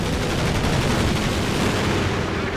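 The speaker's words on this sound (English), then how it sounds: "but a machine gun bunker SkyGreener" A machine gun bunker firing in Company of Heroes 2, a dense, loud, unbroken rattle of gunfire with booming undertones, close and continuous throughout.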